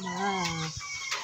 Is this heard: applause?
no